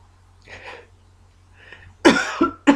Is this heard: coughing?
yes